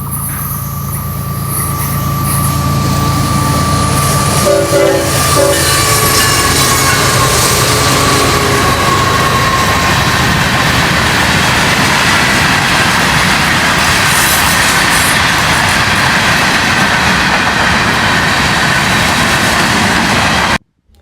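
Florida East Coast Railway train 101 crosses the Cypress Creek Canal bridge, a loud sustained rumble and roll of railcars with a steady horn-like tone early on, continuing unbroken for about twenty seconds before cutting off abruptly.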